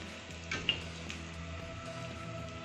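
Golgappa puris for pani puri frying in hot oil, a steady soft sizzle and bubbling throughout, close but fairly quiet, with a faint clink of a utensil near the start.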